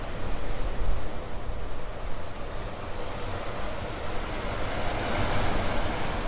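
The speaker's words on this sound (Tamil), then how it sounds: "பெரிய அலைகள் எழுந்தன." Heavy ocean surf roars in a dense, continuous wash of crashing water, loud and close with no pauses.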